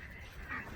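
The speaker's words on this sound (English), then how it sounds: "Oh, there goes the duck line." Ducks quack briefly on a farm, a short burst of nasal calls close by with faint background noise.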